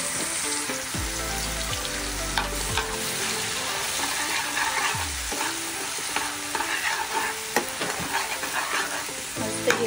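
Spice paste cooking in bottle gourd gravy in a pan, a continuous close sizzle and bubbling with scattered stirring clicks and scrapes throughout, no voices.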